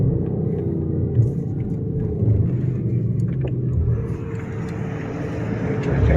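Audi S7 fitted with an HPA RS7 hybrid turbo, a low continuous exhaust burble and engine rumble heard from inside while driving in traffic, steady with slight swells as it rolls on.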